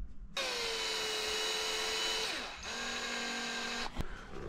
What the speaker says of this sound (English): So we screw them in on that side.